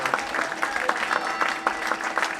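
Audience applause at the close of a Lent lecture, a steady patter of many hands clapping that holds for a couple of seconds at moderate loudness.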